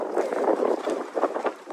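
Wind buffeting the microphone in open desert country near the Mediterranean coast, a brief gusty rush with soft fluttering bursts, fairly faint.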